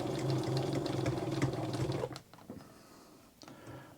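A 1927 Domestic rotary sewing machine stitches through a thicker seam with a rapid, even rhythmic chatter up close for about two seconds, then stops, leaving faint handling clicks.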